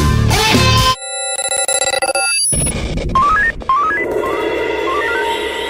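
Telephone ringing on a radio talk show broadcast, a loud electronic ring with bursts of tones and rising beeps over a music bed, with no talking.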